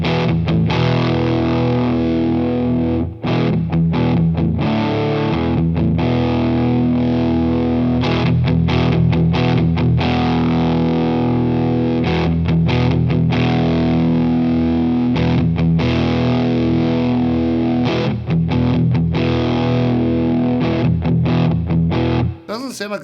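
An electric guitar played through an EarthQuaker Special Cranker overdrive pedal into a Boss Katana amp plays a continuous run of thick, distorted chords, loud and close throughout.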